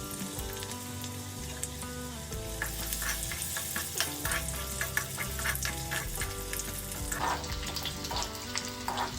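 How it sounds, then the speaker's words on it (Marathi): Garlic tempering in hot oil in a home kitchen pan gives a steady crackling sizzle with sharp pops, heard close and continuous beneath background music. "लसूण छान चळचळलेली आहे"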